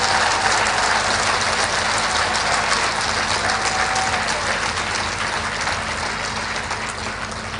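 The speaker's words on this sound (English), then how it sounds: "can you give His Excellency a thunderous applause for those words of wisdom he has rendered us?" A large audience at a formal memorial lecture claps continuously in a dense, even wash of applause that fades slightly toward the end.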